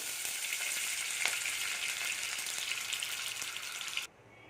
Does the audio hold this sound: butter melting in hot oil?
yes